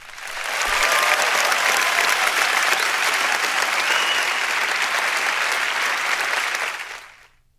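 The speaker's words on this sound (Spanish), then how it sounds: "Démosle un aplauso a Michael Jr." A church congregation breaks into loud, sustained applause that swells quickly, holds steady and full for several seconds, then fades out at the end.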